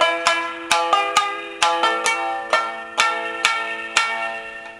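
Shamisen plucked through a short practice phrase, about ten sharp twangy notes with ringing decay in an even rhythm, close and clear with no talking.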